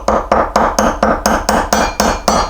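A plastic wheel bearing sleeve on a 1983 BMW R100RS motorcycle is tapped down with a 19 mm socket, giving ten evenly spaced, loud, close knocks in a steady rhythm with no talking.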